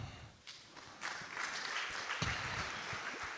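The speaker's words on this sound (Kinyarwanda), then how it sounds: "Mumere Imana amashyi ngo turi mu kiriyo." Mourners applauding at a burial gathering, faint and distant, with a loose patter of scattered claps rather than a sustained ovation.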